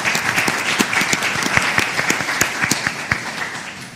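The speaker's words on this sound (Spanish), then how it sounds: "Vamos a darle un aplauso a Edith Febles." Audience applause at a panel discussion on freedom of expression, electoral reform and political debate, a steady dense patter of many hands clapping, fairly close and loud, continuing throughout without speech.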